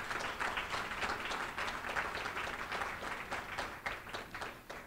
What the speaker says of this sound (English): So I think you should give Cedric a round of applause.